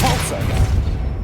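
Depulso spell cast in Hogwarts Legacy, a sharp, forceful blast that hits at once and drops into a short booming rumble.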